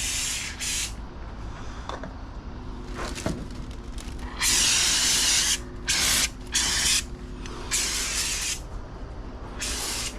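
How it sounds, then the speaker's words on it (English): Bursts of pressurized liquid sprayed onto shrubs, hissing on and off in short and longer blasts, close by, with quiet outdoor ambience between. "So I am going to just spray a bunch of stuff and see if it helps."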